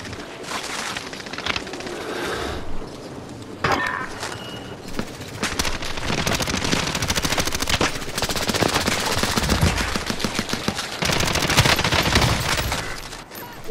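Gunfire from shooters on a rooftop in the Call of Duty Warzone video game, dense bursts of automatic fire and rapid single shots piling up loudly for the whole stretch, growing more continuous toward the end.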